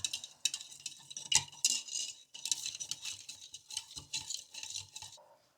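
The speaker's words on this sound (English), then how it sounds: "after stirring for a couple of minutes, they're all dissolved" Hydroponic nutrient powders being stirred into a bucket of water, a quiet run of light clinking and swishing strokes, irregular and close, with a short pause partway through.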